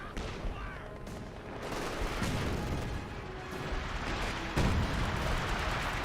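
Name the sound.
artillery fire in video game Company of Heroes 2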